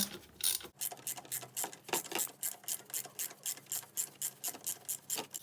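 An oil drain plug on a 110 cc ATV is loosened with a ratchet wrench, giving a rapid, steady run of close, crisp ratchet clicks in short repeated strokes, with no voices.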